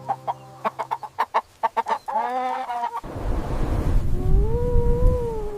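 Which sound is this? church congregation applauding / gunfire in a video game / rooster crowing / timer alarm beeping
rooster crowing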